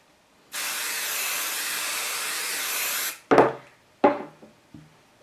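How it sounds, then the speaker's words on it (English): One long steady hiss of temporary adhesive spray from an aerosol can over quilt batting and fabric, lasting about two and a half seconds, followed by a few sharp knocks and rustles of handling. "I'm just going to bring this over and spray it."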